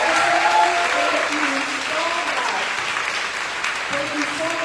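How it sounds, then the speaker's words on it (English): Sustained audience applause fills a town hall meeting, dense and steady clapping from a seated crowd, with a voice briefly audible over it. "a warm round of applause to all of our speakers and all of our state representatives"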